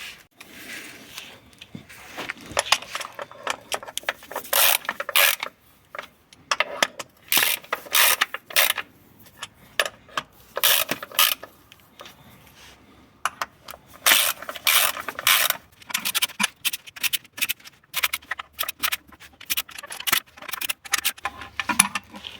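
A ratchet and socket loosening the oil sump bolts on an Alfa Romeo Stelvio 2.2 diesel: bursts of quick, close pawl clicking separated by short pauses, repeated many times with no talking.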